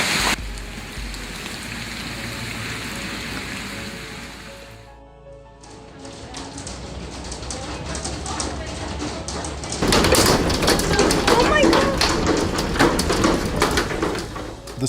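Hail pours down in a devastating storm that shatters windows and damages rooftops, a dense, loud rattling clatter that briefly eases midway, then returns harder and heavier.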